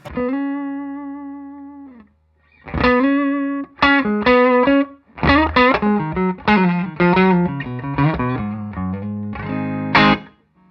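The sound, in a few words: Telecaster electric guitar on neck pickup through boost pedal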